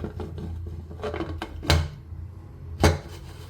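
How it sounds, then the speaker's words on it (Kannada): A pressure cooker lid being closed while palak pulao rice cooks, giving two sharp metallic clunks a second apart over quiet kitchen background and small handling knocks. "ಈಗ ನಾನೇನು ಮಾಡ್ತಾಯಿದ್ದೀನಿ ಈಗ ಲಿಡ್ ಕ್ಲೋಸ್ ಮಾಡ್ತೀನಿ"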